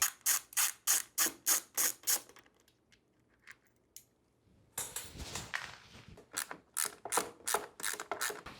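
Ratchet removing seat bolts on a Sur-Ron electric dirt bike, close and crisp: a steady run of rhythmic clicking strokes, a quiet pause with light handling noise, then another brisk burst of ratcheting.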